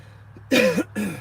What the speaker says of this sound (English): Sorry, milkshakes make me cough.